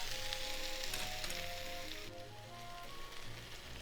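Spicy cheesy chicken pieces fry in a pan with a dense, steady crackling sizzle, close and even, dipping slightly midway and continuing without talk.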